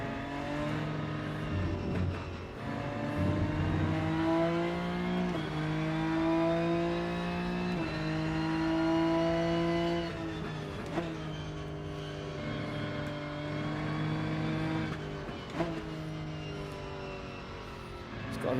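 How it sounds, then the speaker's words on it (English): A Porsche race car in the Rennsport racing game at the Nürburgring, its engine droning loudly with rising revs broken by sharp downshift blips and rev drops, continuous throughout. "Change down noise on the Porsche."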